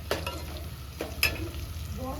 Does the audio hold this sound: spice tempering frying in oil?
yes